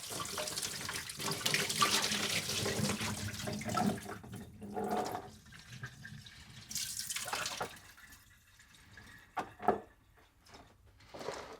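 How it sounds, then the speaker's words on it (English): Cooked noodles being strained in a kitchen sink: water pours and splashes into the basin in uneven bursts, then thins to trickles and drips, close by with no talking. "Strain these noodles."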